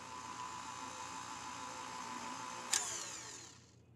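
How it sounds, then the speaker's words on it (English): An electric mixer beats unsalted butter for cupcake frosting, a steady whirring motor drone that runs evenly, clicks sharply near the end, then winds down and stops. "first I'll beat the butter to make it nice and fluffy."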